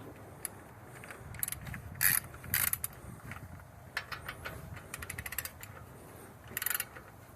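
A torque wrench ratchets on a suspension bolt of a 2010 Hyundai Accent, making close, quiet bursts of clicking with brief metallic clunks and pauses between strokes.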